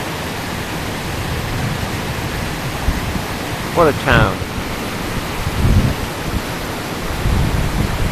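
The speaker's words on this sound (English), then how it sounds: "A river runs through it." A river flows through the town of Sacile, Italy, a steady broadband rush of water heard outdoors throughout, with a brief voice speaking over it.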